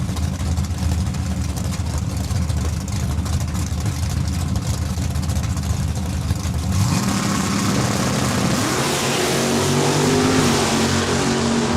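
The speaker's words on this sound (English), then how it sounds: "Both Mopars going to pull the front wheels." Two Mopar drag racing cars at Saskatchewan International Raceway launch from the starting line, a dense, loud engine roar that swells into a rising, full-throttle rev partway through and holds steady.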